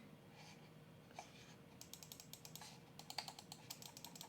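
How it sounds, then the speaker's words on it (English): The buttons of a Keychron M7 wireless mouse are clicked repeatedly in quick, crisp bursts, faint but close, with a few softer handling sounds at the start and no talking. "Nice click to the buttons."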